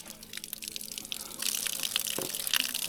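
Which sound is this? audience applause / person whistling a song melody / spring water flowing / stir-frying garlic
spring water flowing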